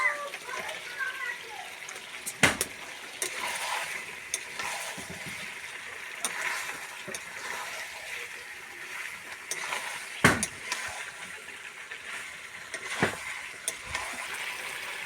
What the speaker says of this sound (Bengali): মাংসটা ভালো করে কষানো হয়ে গিয়েছে, এবার দিচ্ছি। এবার ভেজে রাখা আলুটা দিয়ে দিচ্ছি।